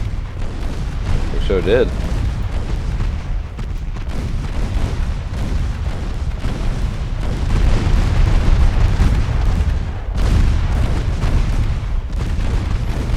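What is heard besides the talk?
10-inch naval guns firing in video game UAD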